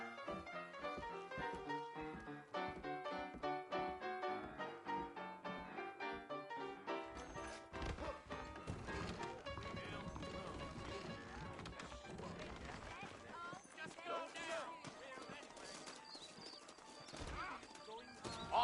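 Steady clip-clop of horse hooves trotting along in the video game Red Dead Redemption, with music and people talking over the rhythmic hoofbeats.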